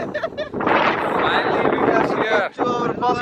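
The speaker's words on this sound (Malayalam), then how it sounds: "ഓ നമ്മളെ പറത്തിക്കൊണ്ട് പോകുന്ന കാറ്റാണല്ലോ" Strong wind gusts buffet the microphone at Parunthumpara viewpoint in Idukki, a loud, roaring rush that briefly drops out before returning, with people talking over it.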